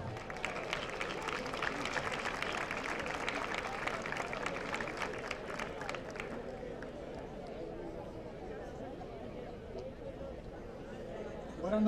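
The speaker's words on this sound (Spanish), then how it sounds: "un fuerte aplauso para él" Audience at an event honouring elderly people applauding a day-centre resident, quick clapping that fades after about six seconds, followed by quieter room murmur.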